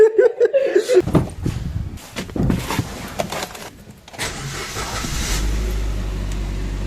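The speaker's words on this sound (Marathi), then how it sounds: "आता गाडी कोल्ड स्टार्ट केली आहे" Car cold started outdoors on a Mahabaleshwar trip: clicks, knocks and laughter first, then the engine catches near the end and settles into a low steady idle.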